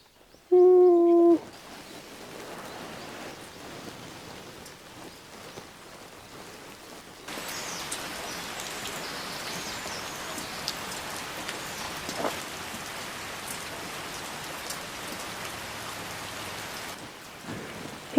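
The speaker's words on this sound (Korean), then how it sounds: "비가 오기 시작했습니다." Rain begins falling on a moss forest in Jericho's Hallim area, Jeju, a steady broadband patter on leaves and ground that thickens midway and continues alone, with a short tonal sound at the very start.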